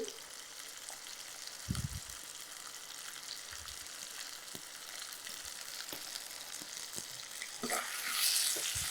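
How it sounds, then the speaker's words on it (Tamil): Steady sizzling of ingredients sautéing in a pan for quail fry, with occasional stirring scrapes and a louder hiss near the end. "இதை வந்து ஒரு 3லேருந்து 4 நிமிஷம் நல்லா வதக்கி எடுத்துக்கலாம்"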